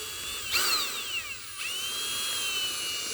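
Power drill whining at high pitch during a soft top gear repair on a 2000 Porsche Boxster 986, one rising and falling burst followed by steady drilling, near and loud with no talk.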